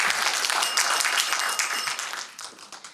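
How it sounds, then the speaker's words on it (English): An audience claps together in a meeting room on MS health, a thick burst of applause that stays strong and then thins and fades toward the end. "I like hearing clapping."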